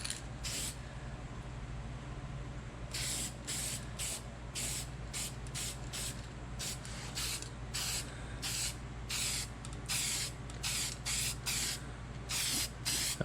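Spray paint can fitted with a swapped nozzle, dusting paint onto rusty bodywork of an off-road 4x4: a series of short hissing bursts, some quick and some held longer, close and clear over a low background hum.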